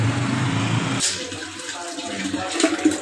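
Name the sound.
water being poured into a clay cooking pot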